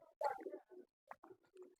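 Lakha breed pigeons coo in a few soft, rounded bursts close by, with short gaps between calls and no voices.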